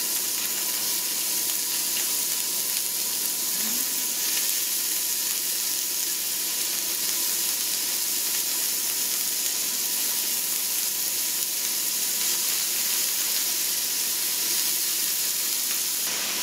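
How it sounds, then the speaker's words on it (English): Steady, close sizzling and crackling of beef frying in a pan, a continuous hiss with small pops, no talking. "Sizzle, sizzle, sizzle."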